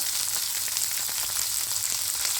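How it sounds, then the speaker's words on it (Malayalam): Chopped garlic, ginger, onion and curry leaves sauté in hot oil in a pan, giving a loud, dense, close crackling sizzle that runs steadily throughout. "ഇട്ടതിന് ശേഷം നന്നായി ഇളക്കി ഒരു രണ്ട് മിനിറ്റ് വഴട്ടി കൊടുക്കുക"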